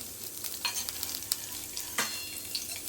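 Coconut pieces and tamarind frying in a spoonful of oil, with a soft continuous sizzle and scattered scraping clicks as a spoon stirs the pan, close and fairly quiet.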